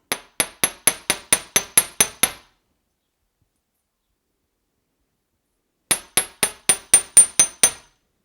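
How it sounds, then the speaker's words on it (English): Two bursts of sharp metallic hammer strikes flattening metal chain necklace links on a block, about eight evenly spaced taps each, separated by a silent pause, close and clear with no talk. "place your links on your block and hammer them on both sides"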